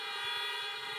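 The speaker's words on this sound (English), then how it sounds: "Only one honk?" A vehicle horn sounds in one steady, sustained honk at a drive-through high school graduation, heard faint and slightly distant with a low rumble beneath and no talk.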